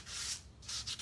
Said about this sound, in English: So this is just 220 sandpaper, and I'm just going to lightly rub it along the edges.